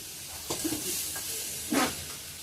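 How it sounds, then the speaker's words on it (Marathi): Hot oil sizzles steadily with a bright hiss, swelling in two sharper crackling bursts as spices for poha tempering hit the pan, nearby. "आता ती फोडणी जोरात असते"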